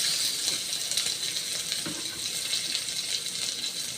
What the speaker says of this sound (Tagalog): Igisa na natin yung ating ginger, garlic,